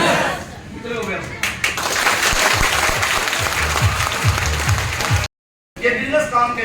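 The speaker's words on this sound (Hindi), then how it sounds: "ताली बजा सकते हैं?" An audience at a direct-selling business training seminar bursts into sustained, dense applause that fills the room, continuing for several seconds before a brief cut and a few more scattered claps.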